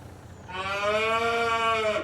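A cow in the video game Farming Simulator 22 gives a single long, harmonic moo that starts after a brief quiet moment and holds steadily to the end.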